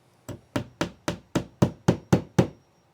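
Nine evenly spaced hammer taps drive a finish nail into a wall while checking for a stud, each a sharp, close knock with a quick decay and no talking.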